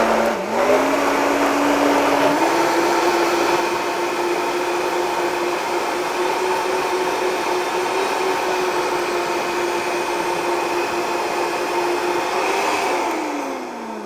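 A food processor runs steadily while blending hummus, a loud, even motor whir that rises slightly in pitch as it speeds up, holds for several seconds, then winds down at the end.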